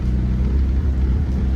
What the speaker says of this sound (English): I would cruise in this car.